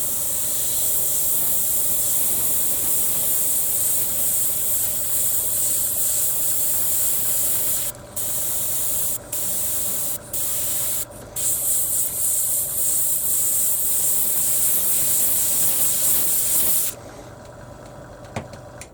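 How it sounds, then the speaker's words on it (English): A Paasche Talon TG 3f airbrush with a 0.38mm needle nozzle sprays a steady, continuous hiss for most of the stretch, briefly interrupted by a few short pauses, close and even in level. "Okay, so I'm going to do some spray tests now."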